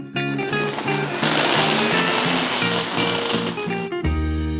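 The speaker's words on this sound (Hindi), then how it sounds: "तो सबसे पहले ब्लेंडर में डालेंगे सम मैंगो चंक्स, साथ में हनी एंड फाइनली सम दही." Blender whirring through mango chunks, honey and yogurt, a loud steady motor roar with a rhythmic pulsing chop, close up, then a sudden drop to a low hum near the end.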